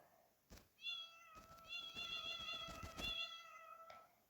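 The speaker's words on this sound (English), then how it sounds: "So we're here with Weird Cat Sounds" Odd cat meows played through a tablet speaker come as several drawn-out, wavering cries with sharp clicks and knocks between them, moderately loud and close.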